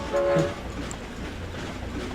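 A game train rumbles steadily along, with a clear horn blast near the start and a continuous mechanical hum underneath.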